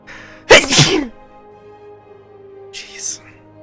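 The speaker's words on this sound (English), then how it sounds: "I'm gonna sneeze." A single loud, close sneeze bursts out and trails off, followed by a quieter breathy exhale, with low background hum from a Star Citizen game session underneath.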